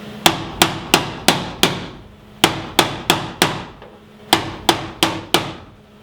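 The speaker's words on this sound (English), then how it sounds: "I'm just going to take a hammer, pound it down until it fits." A hammer pounding a metal boat side into place, sharp ringing strikes in three rapid bursts of four or five blows each, loud and close with short decays between hits.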